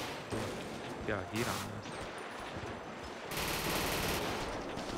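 Rapid automatic gunfire crackles through a GTA 5 police shootout during a bank robbery heist, dense and sustained under people talking, with a louder burst near the end.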